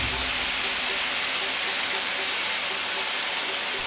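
Soy sauce hits a hot wok while liver and garlic chives stir-fry, giving a loud, steady, broadband sizzle that roars continuously without pause.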